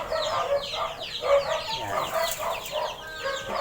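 Several chickens cluck and chatter continuously nearby, with overlapping calls and a brief crowing note mixed in.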